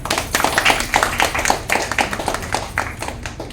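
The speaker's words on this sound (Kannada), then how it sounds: "ಅವರಿಗೆ ಒಂದು ಜೋರಾದ ಚಪ್ಪಾಳೆ" An audience claps at a book unveiling ceremony about freedom fighters, a lively run of dense, overlapping claps that stays steady and close for a few seconds.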